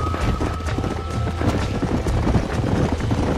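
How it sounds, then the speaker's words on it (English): Horse hooves clip-clop steadily at the stables in the Western video game Red Dead Redemption, a quick run of close, moderately loud footfalls layered over a low ambient bed, with no talking. "These are fine horses."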